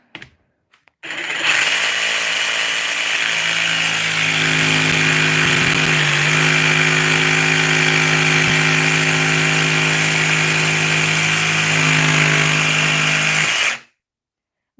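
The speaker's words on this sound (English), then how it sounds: "Let it run full speed before you make contact with the wood." A power saw cutting clamped wood spins up abruptly, holds a loud, steady whine with a buzzing hum underneath for about twelve seconds, then cuts off suddenly.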